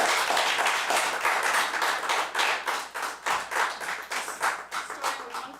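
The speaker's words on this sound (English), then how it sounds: "Let's give a rousing round of applause for Fish Without Bikes." A modest audience claps for an improv comedy troupe, a fairly quiet patter of individual claps with a choppy, uneven rhythm that gets sparser toward the end.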